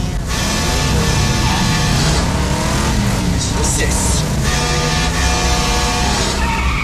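A truck engine roars loudly and continuously during a tense horror-film attack scene, with a rising and falling engine drone and bursts of mechanical noise layered over a dramatic soundtrack.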